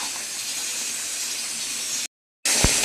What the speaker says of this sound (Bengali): গাজর দিয়ে মটরশুঁটি দিয়ে এঁচোড় রান্না হচ্ছে